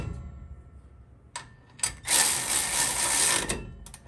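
Wilwood rear disc brake hardware on a 1971 Chevelle with an old-school Ford 9-inch rear end is snugged down with a ratchet: quiet fiddling, then a few seconds of rapid clicking ratcheting close by.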